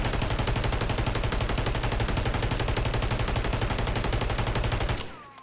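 Rapid sustained automatic fire from a Holger 26 light machine gun in Call of Duty, a dense unbroken stream of loud close shots lasting about five seconds before cutting off abruptly.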